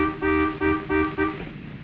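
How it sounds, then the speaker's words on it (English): A car horn honks four times in a quick, even series of short toots, close and clear, then fades into low background hum, in a 1950s domestic sitcom scene. "Honk louder, honey. She didn't hear you."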